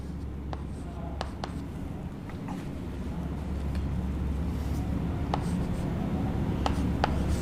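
A question is written on a classroom board during a genetics lesson, giving sharp scratchy strokes and small taps over a steady low room hum, with soft speech in the background.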